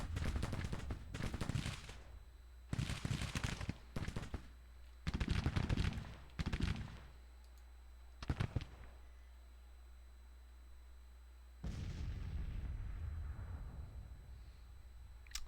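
Civil War video game battle with artillery and gunfire: several bursts of cannon booms and rattling musket volleys come in clusters, separated by quieter gaps, then a longer rumbling barrage near the end.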